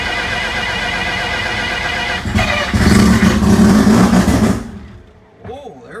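A rotary-engine race car cranks and fires up, a loud steady churning that swells into a harsh rev before dropping away, followed by a voice speaking.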